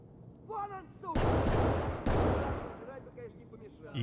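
Gunfire in the video game Escape From Tarkov: two loud, close bursts of shots with long ringing tails, and another starting at the very end, between stretches of talking.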